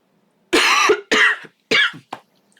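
A man who is sick with congestion coughs close to the mic in four separate bursts: three full hacking coughs, then a short final one, with silence between them.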